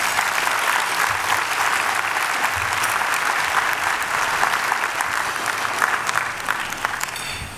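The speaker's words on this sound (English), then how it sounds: "please help me give Andy a round of applause" Luncheon audience gives a long, full round of applause for an award guest, dense and loud clapping from a large room that holds steady for several seconds before easing slightly at the end.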